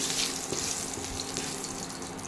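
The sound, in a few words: garam masala frying briefly in a pan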